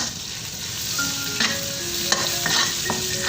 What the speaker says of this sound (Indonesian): ini kita tumis hingga harum